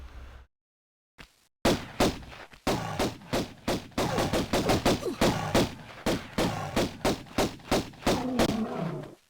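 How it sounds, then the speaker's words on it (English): Pistol shots fired at a bear in the 1996 DOS game Tomb Raider: after a short quiet start, a long run of regular, crisp twin-pistol shots, loud and close, with the animal's growls mixed in. "killing a bear with some pistols seems like a good idea"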